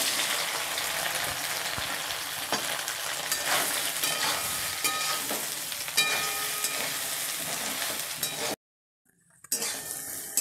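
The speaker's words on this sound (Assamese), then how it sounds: "এবার আমি সয়াবিনটা ভেজে তুলব।" Soybean chunks frying in a pan, with loud continuous sizzling and a spatula scraping and clinking against the metal, cutting out abruptly near the end before the frying resumes.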